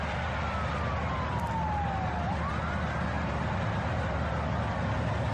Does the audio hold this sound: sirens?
yes